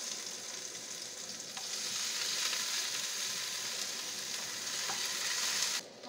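Onion frying in hot oil in a pan with ginger and garlic, a steady close sizzle with occasional stirring scrapes, no voices.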